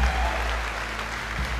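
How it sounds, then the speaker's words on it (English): A church congregation claps together at an Easter Sunday service, a short burst of steady hand clapping over a deep, humming room rumble. "Clap your hands one more time."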